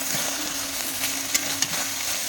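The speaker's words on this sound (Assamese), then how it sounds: "ভাজি পেলাই" Small fish fry with elephant apple (ou tenga) in a pan, a steady close sizzle with soft stirring and a couple of sharp pops partway through, and no talking.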